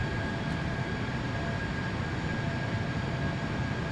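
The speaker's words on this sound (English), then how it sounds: "It's default Embraer sounds, default X-Plane sounds." An Embraer E195 airliner in the X-Plane 11 flight simulator, using its default engine sounds, gives a steady, loud broadband roar and hum that holds constant throughout with no voices.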